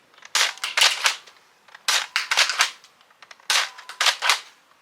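A Nerf Elite 2.0 Eaglepoint blaster fires darts in three bursts of several sharp plasticky pops, each a crisp snap with a short rattle of priming, loud and close with no voice over them.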